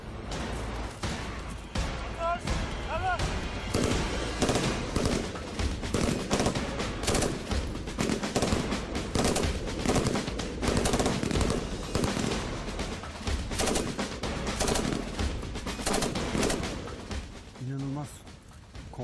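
Gunfire crackles through police special operations shooting training, with dense rapid shots and bursts filling nearly the whole stretch, loud and close, while voices are heard now and then.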